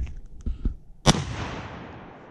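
A single loud rifle shot fired at a target outdoors, a sharp crack followed by a long rolling echo, preceded by a few soft thumps.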